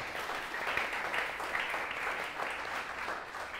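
A church congregation applauds during a Sunday service, with a sustained wash of many hands clapping at moderate loudness from start to finish and no speech over it.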